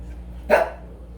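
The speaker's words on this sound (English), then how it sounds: "That's my dog you hear barking" A single sharp dog bark rings out once, fairly close, against a quiet low background hum.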